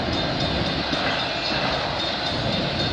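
A long freight train carrying intermodal containers and auto racks rolls past nearby with a loud, steady rumbling roar of wheels and cars.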